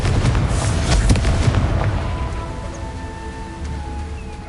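A Confringo fire spell explosion in Hogwarts Legacy, a loud close boom with crackling fiery bursts that fades into a lingering rumble and faint tonal hum.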